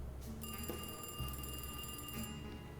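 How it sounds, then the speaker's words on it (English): An old telephone in Alone in the Dark rings with a shrill, steady electric bell tone. It plays fairly quietly for about two seconds, then cuts off. "Answer that phone, because it's fucking annoying me"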